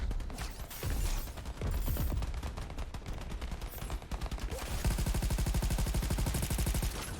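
Rapid automatic gunfire from the player's weapon in the video game Crackdown 3, loud continuous bursts layered with mechanical clatter, ending in a steady fast-firing stream.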